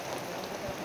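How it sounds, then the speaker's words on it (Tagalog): Heavy rain falls in a steady, soft hiss that stays even and fairly distant for a brief moment, with no talking. "sobrang lakas ng ulan"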